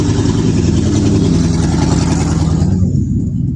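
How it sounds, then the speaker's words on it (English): Loud cars driving by, a thick, heavy engine roar that stays close and steady before easing off slightly at the very end. "People in their loud cars."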